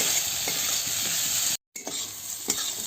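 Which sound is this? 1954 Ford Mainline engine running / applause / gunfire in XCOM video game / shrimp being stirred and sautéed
shrimp being stirred and sautéed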